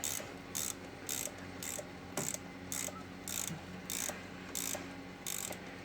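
A ratchet tightens the valve cover bolts on a Subaru boxer engine, giving repeated quick bursts of clicking about every half second. The sound is steady and close but fairly quiet, and no one speaks.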